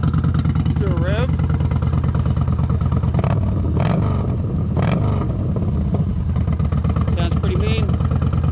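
Motorcycle with a Baron 4-inch exhaust, baffle installed, revved in neutral: loud low engine rumble with several sharp throttle blips rising and falling, and someone speaking over it.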